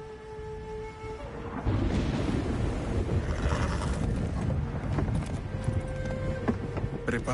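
Horse hooves clip-clop in Ghost of Tsushima on Iki Island during a storm, a rapid galloping patter against rumbling thunder and wind, with game tones and music underneath.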